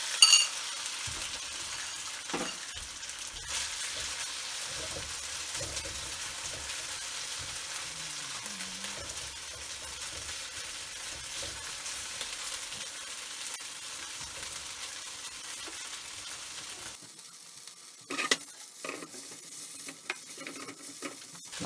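Shrimp frying in oil seasoned with ginger and garlic for Cantonese chow mein, a steady soft sizzle with occasional stirring clatter and a louder burst of scraping near the end, no talking.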